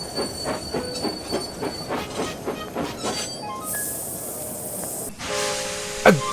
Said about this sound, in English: A goods train?